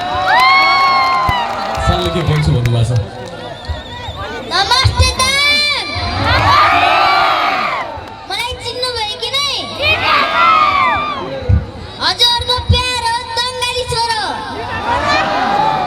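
An audience at an outdoor stage event in Ghorahi cheers, whoops and shouts loudly, with children's voices prominent, in several swelling bursts over about sixteen seconds, while someone speaks into a microphone over the din.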